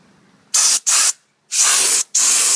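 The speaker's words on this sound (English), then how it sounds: "So I'm just going to take this air compressor hose and blow it out since I got the shroud off." Compressed air from a compressor hose blows out an A/C unit with its shroud removed, four loud close hissing blasts, two short ones then a pause and two longer ones, with no talk.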